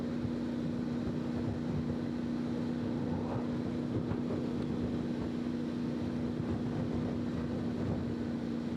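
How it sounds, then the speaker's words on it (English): Wind buffets a microphone inside a motorcycle helmet in a continuous low roar with a steady engine-like drone underneath, loud and unbroken. "very windy today"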